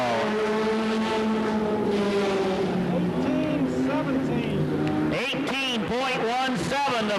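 A Ford stock car in the Goody's Dash series runs a qualifying lap at Anderson, South Carolina, its engine droning loud then rising and sweeping past with a Doppler dip near the end, under a public-address announcer's continuous commentary.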